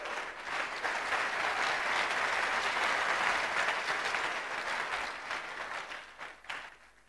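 A church congregation claps steadily for several seconds, a dense, moderately distant patter that tapers off at the end, with only faint voices.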